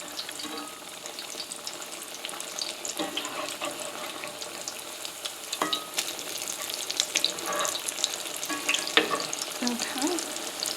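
Salmon patties frying in a pan, a dense, bright continuous sizzle with crackling pops and occasional clinks, rising slightly in intensity toward the end, close and alone without talk.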